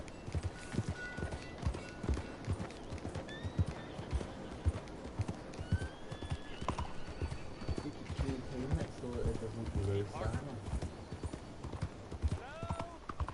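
A horse in Red Dead Redemption 2 moves with a steady clip-clop of hooves, close and continuous, joined by occasional whinnies and snorts, while voices talk over the hoofbeats partway through.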